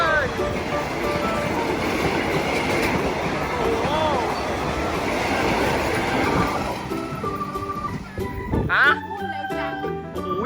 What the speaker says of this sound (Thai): เอาแล้ว รถไฟมาแล้ว